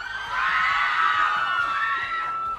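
At a fan event with actors from the Thai series Love in the Air, a crowd of fans screams loud and high for about two seconds, a continuous shrill roar over faint low background noise.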